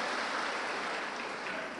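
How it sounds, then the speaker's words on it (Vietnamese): Clapping from women in an audience fills a hall, a dense, even burst of applause that holds steady for under two seconds with no voices over it. "xin một tràng pháo tay nữa của các bà cho tất cả các ông ngồi trong hội trường này."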